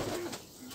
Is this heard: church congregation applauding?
no